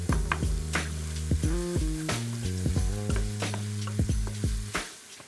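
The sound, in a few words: lamb mince, onion and tomato paste frying in pan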